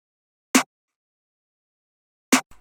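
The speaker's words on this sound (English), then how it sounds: "Let's start with the snare." Two isolated hits of a snare drum sample from an FL Studio trap beat, sharp and bright, spaced nearly two seconds apart with silence between and a faint tail after the second.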